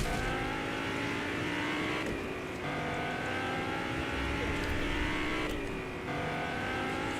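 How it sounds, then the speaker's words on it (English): A car drives in the video game Fortnite, its engine humming steadily and rising and falling with a couple of gear-shift dips, continuous and alone without speech. "Driving me mum's car. Broom, broom."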